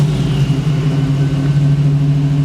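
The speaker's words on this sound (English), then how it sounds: "so that's a beast of an engine." A crate engine in a 1985 Jeep CJ7 runs close by, a loud, steady, deep rumble with a constant low throb and no clear revving changes, alone without talk.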